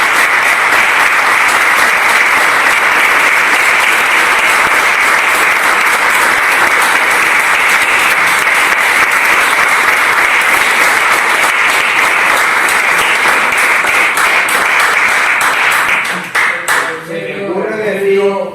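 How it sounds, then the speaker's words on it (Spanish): Long, loud burst of audience applause at a book launch about a traditional long-bowls game from the Campo de Cartagena, dense clapping sustained for many seconds before fading into talk at the end. "Un aplauso."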